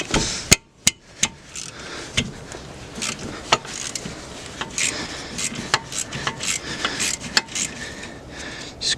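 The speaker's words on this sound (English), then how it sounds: "I'm using a 7mm bit and the bit adapter and a 1/4 inch ratchet." Sharp metallic clicks and knocks from a 1/4 inch ratchet with a 7mm Allen bit and bit adapter, cracking loose the brake bolts on a Vauxhall Astra G, heard as irregular close taps scattered over a quiet workshop background.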